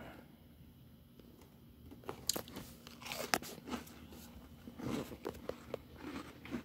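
Biting into and chewing a Benton's chocolate chip cookie, a few loud crisp crunches up close followed by softer repeated chewing crackles, with no talk.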